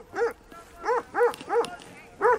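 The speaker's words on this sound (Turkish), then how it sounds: "Hadi ya çağır şu köpekler bizi yiyecek." Several short, yelping dog barks in quick bursts with brief pauses, fairly close, at a farm beside a forest in Gönen, Turkey, with some voices in the background.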